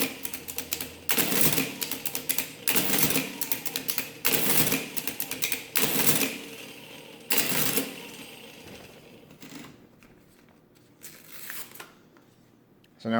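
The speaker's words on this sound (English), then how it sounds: "Yep, now it prints a 2." Marchant Transmatic mechanical calculator printing, giving bursts of dense clattering mechanical clicks and whirring in several spaced cycles, loud and close, then settling to a quieter rattle.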